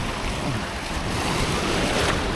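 Sea waves wash steadily near Dos Hermanos Island, a continuous broadband surf hiss mixed with wind buffeting the microphone, with no voices.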